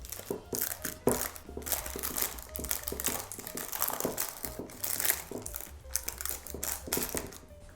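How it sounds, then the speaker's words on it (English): Crunchy, crinkling pressing sounds repeat in quick, uneven bursts, close by, as an oat mixture is packed into a pan. "we're going to press our oat mixture into our pan really well"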